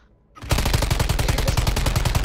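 Sustained automatic gunfire in a video game cuts in abruptly after a brief quiet moment, then continues as a rapid, evenly paced burst of close, loud shots.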